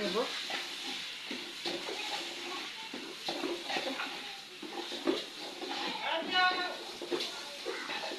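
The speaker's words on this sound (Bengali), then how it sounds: "এখন চালগুলো ভেজে নেব।" Rice is stirred and fried with browned onions in a hot pan, a soft continuous sizzle broken by scraping stirs of a spatula against the pan, close and fairly quiet, with brief clinks.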